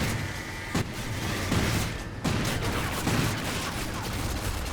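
Rapid, punchy gunfire from Call of Duty Ghosts played on Xbox One X, dense bursts of shots with a couple of heavier booms, loud and continuous throughout.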